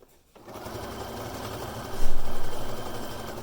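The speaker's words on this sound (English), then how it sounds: "I like to use a 3-step zigzag for this step." A sewing machine hemming clear elastic with a 3-step zigzag stitch, a close mechanical whirr starting up and then speeding into a louder rapid chatter.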